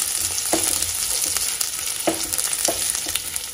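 Ginger and a sprig of curry leaves sauté in oil for a Kerala-style egg curry, giving a dense, close sizzle. A few spatula scrapes and light taps are spaced through it, and no one speaks.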